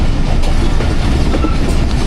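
The Hazara Express rumbles along the rails with a loud, close, continuous roar and a steady clatter of wagons throughout.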